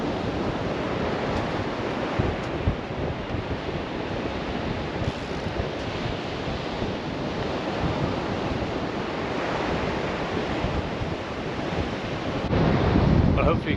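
Strong wind buffets the microphone over steady crashing surf on Llantwit Major beach in South Wales, a continuous loud roar of waves and gusts with no voices, swelling slightly louder near the end.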